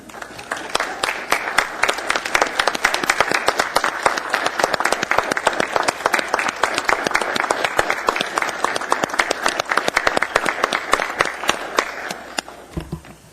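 An audience at a regular assembly meeting gives a loud, sustained round of applause and standing ovation, dense clapping holding steady for about twelve seconds before stopping abruptly.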